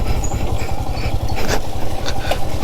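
An adventure motorcycle idles close by on a muddy off-road jungle trail, making a steady, throbbing engine rumble with no talk over it.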